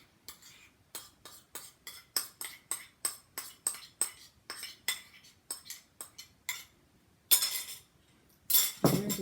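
Egg white and yolk stirred into breadfruit puff mixture in a bowl, a steady run of sharp clinks and scrapes of utensil against the bowl, ending in a few louder clattering bursts.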